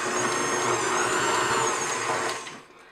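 An electric mixer whirs steadily through strawberry cake batter as sugar is mixed in, a continuous high motorized whine with a grinding undertone that holds evenly, then tapers off near the end.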